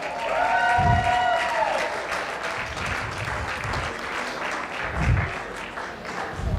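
An audience applauds at a charity auction gala, a dense, steady wash of clapping with a brief whistle and low thumps, while people talk over it.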